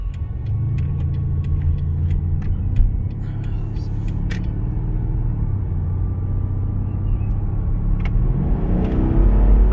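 A 2014 Mercedes CLS 550 accelerates hard, its engine rumble building steadily from inside the cabin and swelling louder near the end, with faint clicks and no speech over it.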